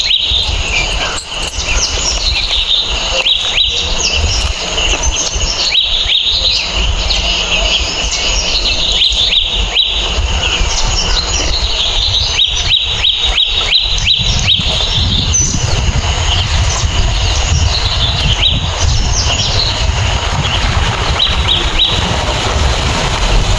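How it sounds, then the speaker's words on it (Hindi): Birds chirp and tweet steadily on a morning walk in green mountain surroundings, with many overlapping calls alongside a constant insect-like buzz and outdoor hiss throughout. "यहाँ सुबह सुबह चिड़ियों की चहचहाट और चारों तरफ हरियाली के क्या ही कहने"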